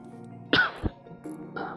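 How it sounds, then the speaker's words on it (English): A single cough, close and fairly loud, followed by a softer throaty sound and a quiet voice. "Sorry for the cough."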